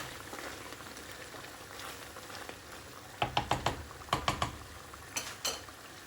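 Water goes into a pot of simmering beef bhuna gosht, giving a soft sizzling bubble with a burst of sharp clinks and splashes against the pot, close and fairly quiet.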